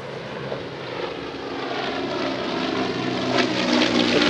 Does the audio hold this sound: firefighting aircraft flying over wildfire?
yes